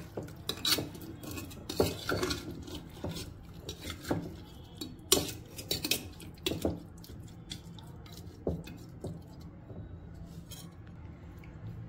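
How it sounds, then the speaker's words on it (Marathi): A spoon stirs chunks of raw mango pickle steeped in cooled oil, giving irregular clinks and scrapes against the container with soft wet sloshing, close and moderately quiet. "आणि लोणचं हलवून तेलाचं प्रमाण योग्य आहे की नाही हे पाहूया."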